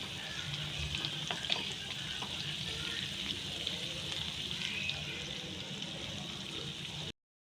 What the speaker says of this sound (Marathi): इथे हे तूप झालेलं आहे. ते थोडं आपण 2 मिनटं ठेवूयात आता गॅसवरती.